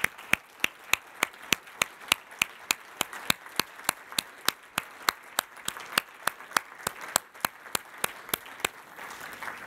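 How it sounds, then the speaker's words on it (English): Audience applause for an advanced manufacturing institute team at a national competitiveness forum, heard as a few close, sharp, regular claps with a softer scattered crowd clapping underneath. "I'd love for everyone to give them a loud applause for their great work."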